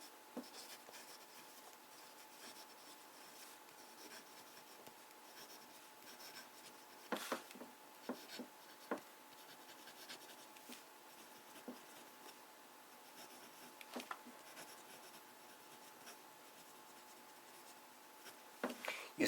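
Quiet scratching of a medium nib fountain pen writing on paper, faint continuous rubbing with occasional sharper ticks of strokes and lifts, close and soft throughout.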